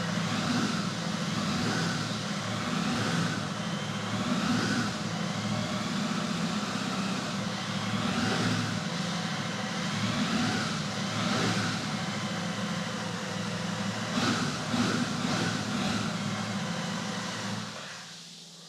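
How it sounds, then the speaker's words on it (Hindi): A new 2023 Royal Enfield motorcycle idles and runs at light throttle, giving a steady, even exhaust note with gentle rises in pitch, heard at close range, continuous throughout and fading out at the very end. "एग्जॉस्ट का जो नोट है उसमें एक लीनियरनेस है। मैं थ्रॉटल लेता हूं हल्का सा पहले"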